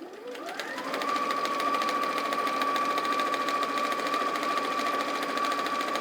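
A sewing machine stitches a quarter inch seam on a Christmas project, starting up and then holding a loud, steady, close motor whine with a fast even needle chatter throughout.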